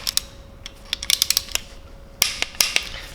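A ratchet clicks in close, quick bursts of pawl ticks as it tightens a timing chain guide bolt on a BMW M62 V8 engine, with short pauses between the runs of strokes.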